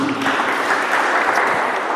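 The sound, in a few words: church congregation applause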